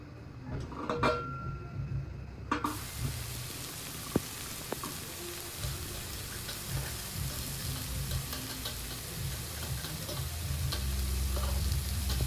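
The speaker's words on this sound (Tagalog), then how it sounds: "Magluluto si Tropa ng egg." An egg fries in a pan in an apartment kitchen, a soft steady sizzle and crackle with a few sharp clicks early on, faint and continuous throughout.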